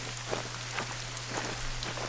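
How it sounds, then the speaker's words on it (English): Heavy rain in the hunting game The Hunter: Call of the Wild, a steady dense hiss of pouring rain with scattered individual drop patters and a low constant hum underneath. "Pouring down the rain."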